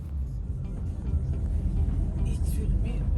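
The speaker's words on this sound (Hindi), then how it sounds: "यहाँ पर ट्रैफ़िक हमेशा इसी तरह से रहता है, बहुत ही ज़्यादा ख़राब रहता है पेरिस में ट्रैफ़िक हमेशा" Dense Paris street traffic grinds along in a steady low rumble of engines, close and continuous, with a faint higher rush from passing vehicles and talk nearby.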